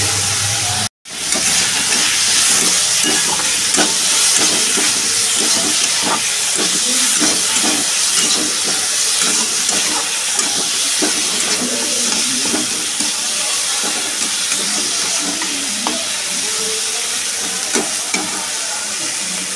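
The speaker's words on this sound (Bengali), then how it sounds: "এগুলোকে একটু সটে করে নেবো," Food sautéing in a frying pan gives a loud, continuous sizzle and hiss, with frequent stirring clinks and scrapes throughout after a brief dropout near the start.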